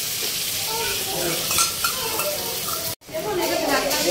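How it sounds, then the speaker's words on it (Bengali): Onion and spice paste sautés in a pan for prawn malai curry, with a loud, close, continuous sizzle and scraping stir strokes, briefly cut off near the end, then resuming. "এবার এটা আমরা ভালোভাবে কষিয়ে নেব।"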